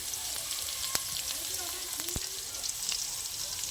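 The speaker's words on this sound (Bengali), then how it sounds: "মাছ ভাজার তেলে আমি আলুটা ভেজে নেবো" Potatoes frying in oil left over from frying fish, a continuous close crackling sizzle with scattered sharp pops and clicks throughout.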